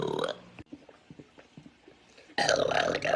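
A girl lets out a close, loud burp, then a stretch of faint voices and quiet clicks follows before a second long, gravelly belch sounds right up front.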